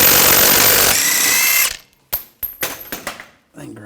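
Power tool spinning out a wheel bolt on a 2000–2006 BMW X5 during front ABS sensor work: a loud sustained whir for about 1.7 seconds, then a quiet gap and several short clanks and ratchety bursts.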